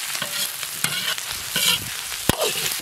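Crispy cartilage stir-frying in a hot wok with coriander and mixed vegetables: a steady close sizzle and crackle of oil, broken by the scrape and clatter of stirring, with no voices.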